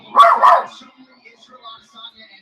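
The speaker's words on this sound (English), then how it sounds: "this dog is out of control" A dog barks indoors, two sharp loud barks in quick succession close to the microphone, followed by faint background sound.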